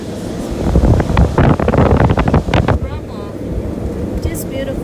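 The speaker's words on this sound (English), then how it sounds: "There was a wind blowing." Wind blowing hard across the microphone on a twisty mountain road by Ouray's box canyon on the Million Dollar Highway, a loud buffeting rumble that eases toward the end, with a voice talking under it.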